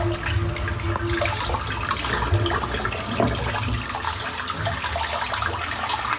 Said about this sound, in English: So this water's gone really cold, so I'm just going to replenish it with some warm water.